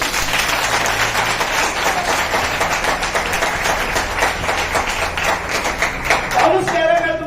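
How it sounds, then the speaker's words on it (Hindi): A church congregation claps throughout during a sermon, dense steady applause close by with a few brief voices near the end. "एक बार ताली दो।"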